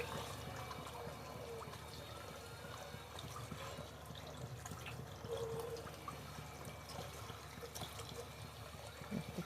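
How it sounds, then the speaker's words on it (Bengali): Taro roots and potatoes get washed in water, a soft, steady wash of splashing and trickling that stays faint and continuous throughout, with no voices. "এবার আমি কচুমুখী আর আলুগুলোকে খুব সুন্দর করে ধুয়ে পরিষ্কার করে নেব"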